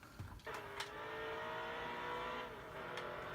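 A race car engine in the NASCAR Heat 2 video game during a qualifying run holds a steady high revving drone, preceded by a brief uneven burst at the start, with no talking.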